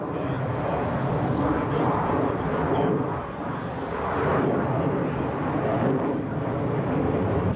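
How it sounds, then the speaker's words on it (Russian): A Su-37 fighter jet flies Frolov's Chakra, braking sharply and flipping backward at low speed, its engines giving a sustained, swelling roar that dips briefly midway while a voice talks over it. "Акробатический номер Су-37 доступный только ему, Чакра Фролова."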